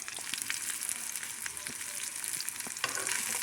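Onions frying in a pan for a patty melt, a steady close sizzle with scattered scraping stir strokes and brief clicks throughout, no talking.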